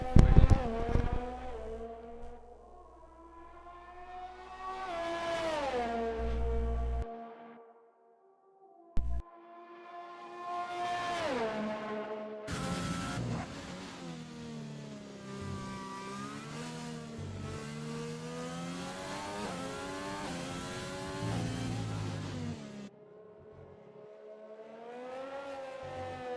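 A Formula 1 race car engine on an out lap in the F1 2020 video game, Russia circuit, revs repeatedly up and down through the gears, with brief quiet gaps and a sharp tone between shifts.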